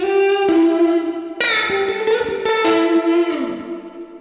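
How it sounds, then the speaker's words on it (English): Electric guitar played through a Neural DSP amp plugin with its spring reverb turned up high, a few strummed chords and single notes ringing out into a splashy, lingering tail, with no voices. "It's a great sounding spring reverb."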